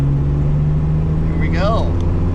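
A six-cylinder engine idling steadily after finally catching, a loud, even low rumble throughout, with a brief voice rising over it near the end.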